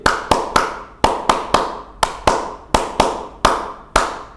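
Scouts' Hizbul Wathan HW clap pattern is clapped by hand, crisp close claps falling in rapid sets of roughly three, repeated over and over with brief gaps, with no talking.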